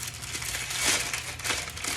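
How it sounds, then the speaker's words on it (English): Crinkly crumpling of stiff parchment paper, a steady rustle with a couple of louder scrunches, close and alone. "If you crumple up your parchment"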